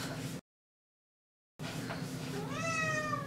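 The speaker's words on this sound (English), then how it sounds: "Sorry, cat." A house cat meows and whines nearby, with a short cry, a moment of total silence, then a longer rising, drawn-out whining meow.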